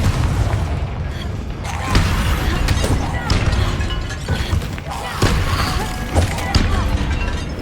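Repeated booming blasts and heavy thuds of the Confringo fire-explosion spell in the Hogwarts Legacy video game, dense and loud, with continuous battle noise throughout.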